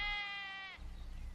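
A sheep bleats once in a long, wavering call, close and clear, out in a farm pasture where a female donkey guards the flock; after the bleat, faint low rumbling from the field continues.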